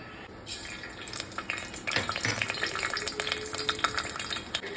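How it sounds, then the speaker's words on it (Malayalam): Crackling, popping sizzle of mustard seeds spluttering in hot coconut oil, quiet at first and then growing busier and denser, close by, with no talking. "വെളിച്ചെണ്ണ ചൂടായിക്കൊണ്ടിരിക്കുന്നുണ്ട് നമുക്ക് ആദ്യം കടുക് ചേർക്കാം"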